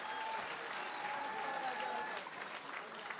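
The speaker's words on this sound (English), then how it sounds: "I want a rousing, enthusiastic round of applause for both of these gladiators." A crowd in Windham, New Hampshire applauds steadily after a hard-fought six-round pro fight, with dense, sustained clapping from a distance that holds at an even level throughout.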